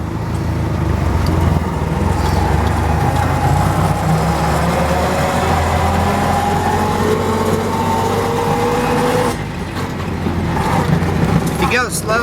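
A 1928 Ford Model A Roadster Pickup engine drones steadily and loud through a gear change, a constant low rumble with shifting pitch, while someone talks over it throughout.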